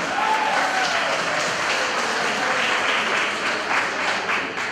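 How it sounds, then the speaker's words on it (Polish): Audience applause for the film crew at a school event, a dense, steady round of clapping from a sizeable crowd, loud and continuous, fading slightly at the end. "brawa za obsługę filmową"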